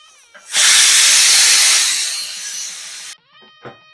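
Sesame oil sizzles loudly in a hot pan while mango rice is being cooked, a steady close hiss lasting about two and a half seconds before cutting off, followed by brief faint clatter.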